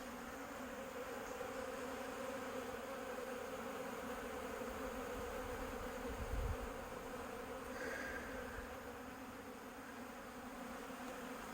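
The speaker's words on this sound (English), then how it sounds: "I hear another swarmy sound, and now it's these bees" A steady, dense hum of many honeybees buzzing together on orientation flights near the hive fills the air, constant and moderately loud, with a brief low thump partway through.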